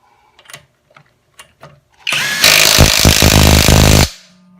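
A Seyvum 20V cordless impact wrench tightens a car lug nut: a few light clicks, then a loud, close two-second burst of rapid hammering that stops abruptly.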